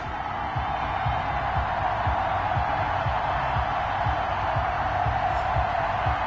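A big NFL stadium crowd roars steadily before a Cleveland Browns versus Pittsburgh Steelers game, a dense, continuous wash of cheering with no breaks, broken by low rhythmic thumps underneath.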